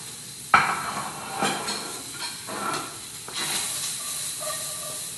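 Garlic and onions hit a hot pan with a sharp initial crackle, settling into a steady, close sizzling hiss that lifts again toward the end.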